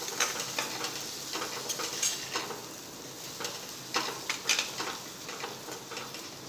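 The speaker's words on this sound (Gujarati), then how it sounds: "હવે મિક્સ કરી લઈશું।" Poha masala with onion and tomato is stirred in a pan, with irregular scraping and clicking of the spoon over a steady soft sizzle, close up and fairly quiet, with no talking.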